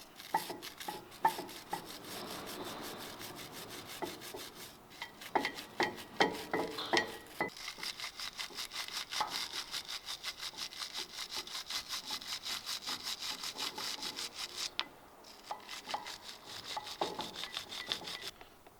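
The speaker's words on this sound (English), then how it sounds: "we're gonna hit it with the wire brush on the corners, on all 4 corners" Wire brush scrubbing the corners of a front brake caliper bracket on a 2020 Toyota Tacoma, quick rhythmic scraping strokes in bursts, close and fairly quiet, with no talk.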